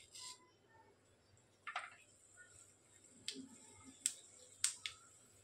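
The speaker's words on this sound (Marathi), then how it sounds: "मोहरी छान तडतडली" Mustard seeds crackle in hot oil in a kadhai, sending out sparse, sharp pops and ticks that come close and isolated against quiet background hiss.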